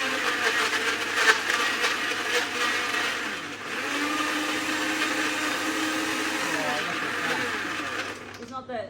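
A blender whirring through a strawberry daiquiri with lots of strawberries, a loud, steady motor drone with a grinding texture that rises in pitch and cuts off near the end.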